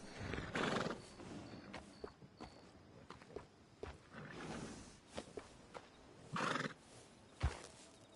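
Horse whinnies and clopping hooves from Red Dead Redemption 2, close and clear, with a few sharp neighs spread across irregular hoof steps and small thuds.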